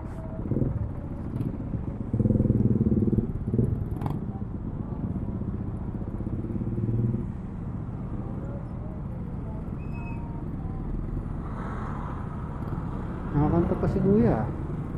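A motorcycle rides past in crowded, cramped street traffic, a near engine rumble that swells and fades, with people talking over it.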